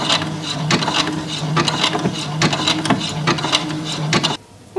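A sewing machine runs a wide zigzag stitch joining two pieces of a glitter tulle gown bodice, giving a loud, close, rhythmic mechanical chatter that runs steadily for several seconds and then stops abruptly.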